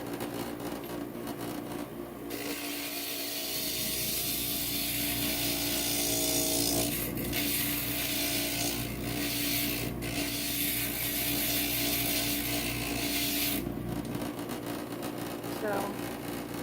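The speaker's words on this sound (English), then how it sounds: "So the grinder will take this bottom lip edge off and straighten it out." An Inland stained glass grinder runs steadily, its bit smoothing a bottom lip edge off a piece of glass, with the grinding rasp swelling for several seconds mid-clip over a constant motor hum.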